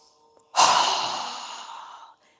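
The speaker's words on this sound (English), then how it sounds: "exhale with a strong breath with our mouth open wide" A single strong exhale through a wide-open mouth during a yoga breathing exercise, a long breathy whoosh that starts abruptly, fades slowly over about a second and a half, then stops, close and clear with no talk.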